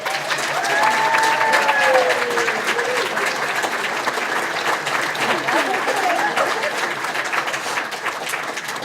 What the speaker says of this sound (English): Please join me in giving these ladies a great round of applause.